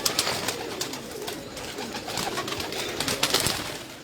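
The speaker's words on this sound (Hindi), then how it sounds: "ये देखें मेरा बांका कबूतर" Pet pigeons in a fancier's loft coo steadily in a low, soft murmur over constant broadband background noise, with no voices.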